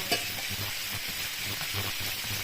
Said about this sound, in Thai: ก็รอทอดไข่ดาวนะคะ